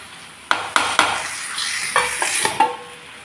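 Lid set back onto a cooking pot of curry, several sharp metallic clanks and taps in quick succession over a faint sizzle, close and loud with no talking.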